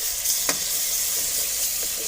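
Tomatoes frying in a pan for masoor dal, a steady hiss of sizzling with one sharp scrape of stirring near the half-second mark, close and moderately loud with no voices.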